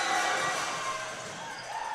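Home crowd at a men's college volleyball championship match in a gym, cheering and roaring steadily and loudly for the Georgian Grizzlies, with a dense continuous wash of voices throughout.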